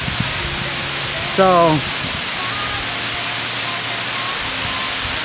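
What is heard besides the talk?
waterfall in Laos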